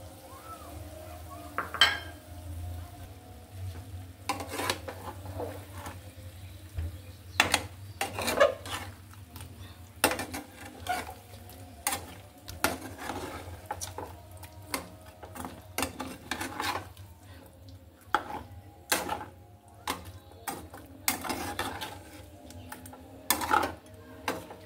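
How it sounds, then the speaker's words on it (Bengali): A tomato being cut in a home kitchen: sharp knife taps and clicks land irregularly against a board, close and fairly crisp, over a soft steady background hum with light utensil clinks. "আমি এখানে একটা টমেটো কেটে দিচ্ছি।"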